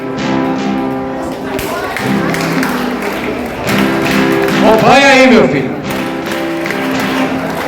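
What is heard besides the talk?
audience clapping hands and stamping feet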